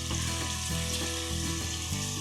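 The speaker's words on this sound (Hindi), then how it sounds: "ऑयल हमारा गर्म हो जाएगा तो हम इसमें प्याज डाल देंगे।" Onions frying in hot oil for a meat curry, with a soft, steady sizzle throughout and no talking, heard briefly and at low level.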